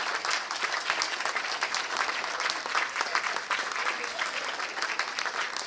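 An audience applauds continuously at a university graduation ceremony, a dense wash of clapping from a large crowd that holds steady throughout.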